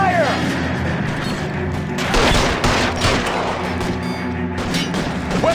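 Dense, sustained gunfire from an L.A. Noire shootout, a loud rapid stream of overlapping shots and booming impacts, with voices shouting faintly under the barrage.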